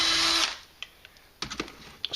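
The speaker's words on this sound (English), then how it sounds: "we will drill approximately the angle this handle is going to be on" A power drill bores a pilot hole into a wall to mount a flip-down anti-slip doorway handle: a close, loud whirring burst for about half a second, then scattered light clicks and taps.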